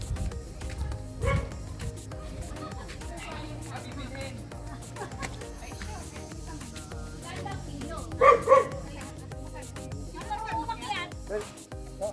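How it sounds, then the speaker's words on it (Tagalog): A husky barks on a farm in a few scattered yips and woofs, with one louder burst of barking partway through, all under nearly constant chatter from several people close by. "Yan, may aso rin, no? May husky."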